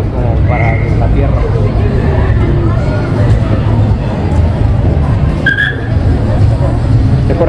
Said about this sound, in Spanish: Como de racers y de esos carros como para la tierra.